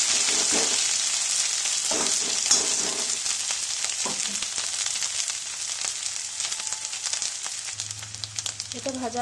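Prawns fry with ginger paste in a pan over low gas, a steady close sizzle with a few soft clinks and scrapes of stirring, easing slightly toward the end.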